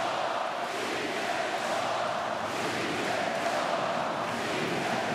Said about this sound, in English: I think this crowd wants more, though.